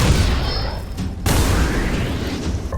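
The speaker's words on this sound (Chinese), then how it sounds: "刚刚枪声太响，我没听清。" Gunfire crackles in an animated Chinese fantasy series: a sharp loud blast bursts out about a second in, followed quickly by a second heavier one, set against a dense, busy soundtrack.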